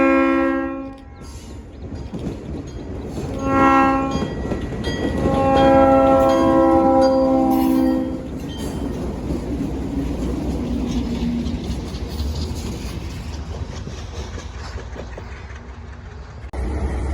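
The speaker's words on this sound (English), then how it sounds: "we'll see the ALCO duo one last time as they head back to Lakeville with a single car" ALCO diesel locomotives, an Alco duo pulling a single car, rumble past with a loud engine drone while a multi-tone horn sounds in long blasts near the start before the roar fades.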